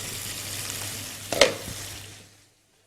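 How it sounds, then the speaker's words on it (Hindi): Masala frying in oil in a pan as it browns, a steady close sizzle with a brief sharp stirring scrape midway, then fading out to silence. "ये देखें, अब ये भुनाई की तरफ ये भुन रहा है, ऑयल ऊपर आ गया"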